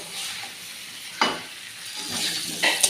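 Boiled potatoes frying in a pan with oil, a steady soft sizzle broken by a few sharper crackles and stirring scrapes, close and moderately quiet.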